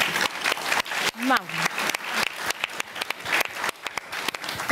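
An audience at a public lecture applauds with moderate clapping throughout, while a voice speaks briefly over it near the start.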